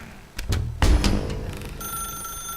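A telephone ringing in The Stanley Parable: a loud, close electric bell rattle in short bursts, followed by a sustained ringing tone that fades slightly.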